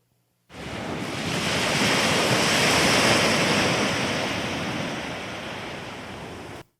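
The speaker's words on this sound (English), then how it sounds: "search for calm ocean shore at sunset" Gentle, continuous wash of calm ocean waves on a shore at sunset that swells up after a brief silence, then slowly softens, with no voices.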